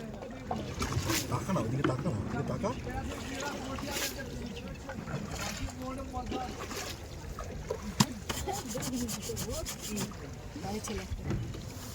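A shikara boat glides across Dal Lake in Kashmir, with water lapping and rustling wind noise forming a steady background for twelve seconds, while people talk over it throughout.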